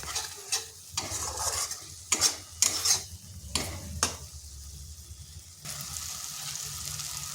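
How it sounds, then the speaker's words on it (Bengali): Spice masala fries and is stirred in a wok. A spatula scrapes and knocks against the pan in irregular bursts over a soft, continuous sizzle that swells louder near the end. "এই মশলাটা বেশ কিছুক্ষণ কষে নিতে হবে।"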